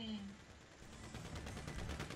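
Rapid gunfire in GTA 5 Online, a dense burst of automatic shots rattling continuously for a couple of seconds, fairly quiet and busy, with voices mixed in.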